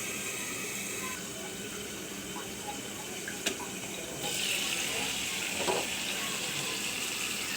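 Tomatoes fry under a lid in a covered pan, giving a steady, muffled hiss and bubbling that holds evenly throughout, with a couple of faint taps.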